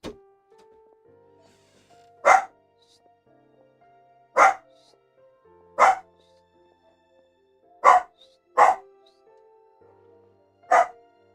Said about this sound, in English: they're barking at a dog outside